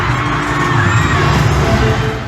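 A massive arena crowd of about 55,000 fans at a concert screams and cheers as the band appears, a loud, steady roar of high-pitched shrieks and whoops that fills the whole clip.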